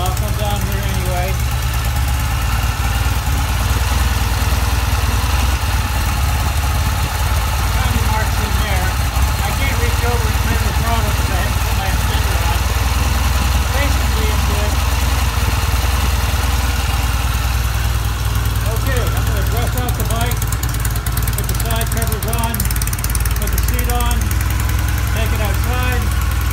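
A vintage British motorcycle engine idles close by with a loud steady rumble and faint mechanical clatter, continuing throughout while a person talks over it.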